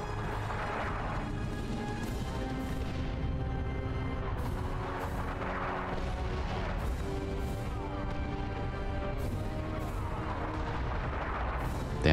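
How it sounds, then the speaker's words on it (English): An artillery barrage in the Warhammer strategy game Dawn of War 2, Wrath of the Blood Ravens, played on hard mode. Continuous heavy rumbling booms and crashes roll on without pause, with a sustained tonal music bed underneath. "The traitors are laying down a barrage to soften us up."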